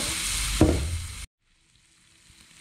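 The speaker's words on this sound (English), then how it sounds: "now that your oil is warmed up, you can add the meat inside." Pork meat dropped into hot oil in a wok for a Chinese style pork dish gives a loud, dense sizzle with a sharp burst as it hits, then cuts off abruptly to near silence.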